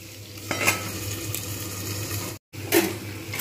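Potatoes and onions fry together in a pan, giving a steady close sizzle with occasional stirring scrapes and a brief cut to silence midway.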